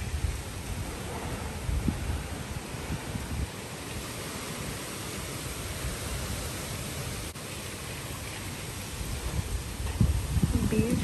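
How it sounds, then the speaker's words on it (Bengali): A storm wind blows outside open windows as a steady broadband roar that swells slightly near the end, while a person talks faintly underneath. "ভালো ঝড় উঠেছে মনে হচ্ছে।"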